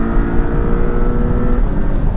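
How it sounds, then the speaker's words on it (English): A 2024 Porsche 718 Boxster Style Edition with a high-revving turbocharged flat-four pulls hard, its engine note loud and steady from inside the car, rising slightly over two seconds. "And listen to that engine."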